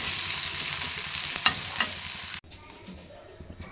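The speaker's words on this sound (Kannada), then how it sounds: "ಚಲೋ ತಂಗ ಎಣ್ಣೆ ಹಚ್ಚಿಕ್ಕಿ ಹುರ್ಕೋಬೇಕು ರೀ ಹೊತ್ತು ಸಂಗೆ ಹುರ್ಕೋಬಾರ್ದು ರೀ ಸ್ವಲ್ಪ ಕೆಂಪಾಗಂಗೆ ಹುರ್ಕೋಬೇಕು" Okra fries in oil in a pan while being stirred, a loud close sizzle with a couple of scraping strokes that drops to a quieter sizzle partway through.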